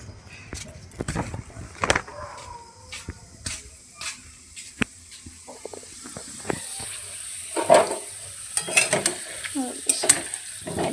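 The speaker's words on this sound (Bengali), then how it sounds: "দেখো এদিকে আলু ভাজছি" Potatoes frying in a pan on a home stove, a faint hiss and sizzle punctuated by repeated sharp scrapes and clinks of a spatula stirring against the pan, with someone talking intermittently over it.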